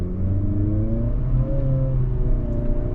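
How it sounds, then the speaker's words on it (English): A 2025 Acura ADX A-Spec Advance's CVT accelerating with crisp simulated gear shifts, a steady engine hum whose pitch climbs, drops and climbs again in stepped shifts, heard close from inside the cabin with no talking. "They're nice, crisp, simulated shifts, fake shifts out of the CVT."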